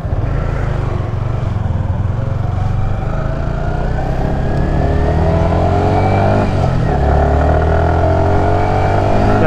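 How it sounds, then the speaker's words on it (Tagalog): A motorcycle rides along the road close by, its engine droning loudly and steadily with a rising, revving pitch, under constant wind and road rumble. "Ayan, may pumasok na motor doon"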